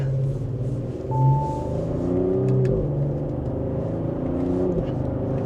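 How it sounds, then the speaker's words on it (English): A 2025 Audi SQ5 swings through a tight U-turn and pulls away again. Its engine hum rises and falls with a brief surge of acceleration, steady and fairly close throughout. "We're going to make, hopefully, a U-turn here without having to back up."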